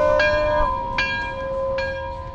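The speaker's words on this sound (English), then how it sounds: "Somebody ring the bell!" Three clear bell strikes ring out, evenly spaced at a car dealership, each with a bright metallic attack and a sustained humming tone between them. The strikes are close and stand alone over faint background noise.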